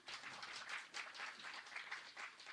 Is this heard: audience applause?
yes